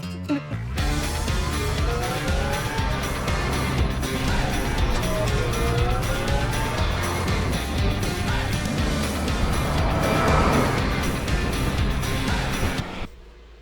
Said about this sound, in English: I'm about to be a passenger in the Wolf electric truck